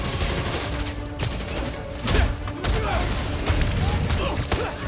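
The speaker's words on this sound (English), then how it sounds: "Who is shooting me with rockets?" Rocket and gunfire barrage in Spider-Man: Miles Morales, a dense run of booms and mechanical clatter with blasts rising around the middle, loud and continuous under a talking player.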